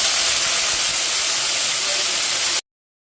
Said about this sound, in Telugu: ఇప్పుడు అదే ప్యాన్లో మనం కడిగి శుభ్రం చేసి ఉంచుకున్న పుదీనాను వేసి